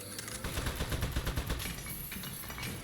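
Turret gunfire from the video game Aperture Desk Job: a rapid, dense burst of machine-gun shots for about two seconds, loud and close, then trailing off into a ringing tail.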